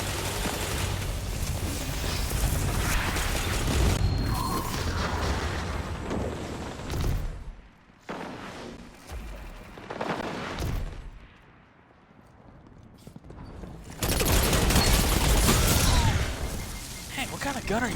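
Rapid bursts of gunfire and booming explosions from the video game Destiny 2, loud and dense through most of the stretch, thinning briefly in the middle before a heavy volley returns, with people talking over the action.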